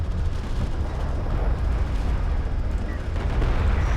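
Missile barrage in a space strategy video game, a continuous heavy rumble of overlapping explosions and booms, loud and sustained throughout, with no voices.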